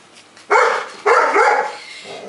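A fluffy puppy in the snow gives two loud, close barks in quick succession, each followed by a short yelping tail, with a softer whine at the end.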